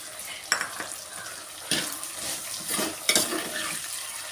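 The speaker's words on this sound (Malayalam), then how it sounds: "നന്നായിട്ട് ഇളക്കി കൊടുക്കണം." Sliced garlic and curry leaves sizzling in oil in a pan for papaya pickle, stirred with a spoon that scrapes and taps the pan in irregular strokes over a steady frying hiss.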